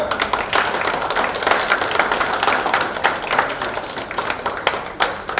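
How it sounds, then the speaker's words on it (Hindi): Audience applause at a birthday celebration with a TV serial cast, dense steady clapping from many hands lasting throughout, fairly loud, with no talk over it. "ताली मारो,"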